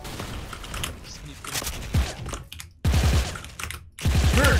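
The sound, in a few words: gunfire in the video game Special Force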